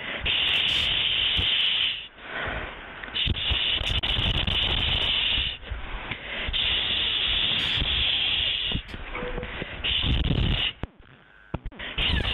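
An aerosol spray can sprays against rats in long, loud, continuous hissing bursts, broken by a few short pauses and a couple of abrupt cutoffs near the end.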